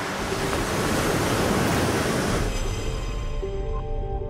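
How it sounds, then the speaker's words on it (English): Ocean waves pound the shore of St. Lawrence Island, Alaska, in spring, a dense continuous roar of surf that eases slightly toward the end, with wind noise and no voices. "By April, waves are back, pounding the shore of Alaska's largest northerly island."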